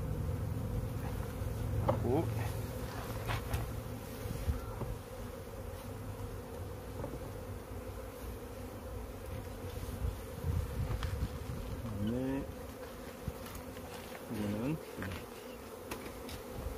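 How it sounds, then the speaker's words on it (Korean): Honeybees buzz around an observation hive in a steady, dense hum, with louder passes from individual bees drifting near and away. "숯벌이 굉장히 많이 있네요."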